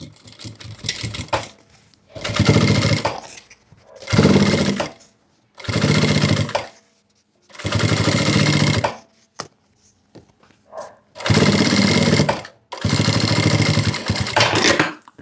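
A sewing machine stitching a seam on a zipper pouch runs in six loud bursts of rapid whirring stitches, each lasting one to two seconds, with short silent pauses in between.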